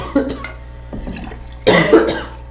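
Two bursts of harsh coughing, a short one first and then a louder, longer fit, with a faint hum behind it.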